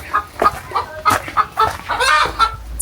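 Chickens clucking at a farm property near a furnished bungalow in Njoro, Nakuru, Kenya, with repeated short, close, fairly loud clucks in an uneven rhythm and no talking.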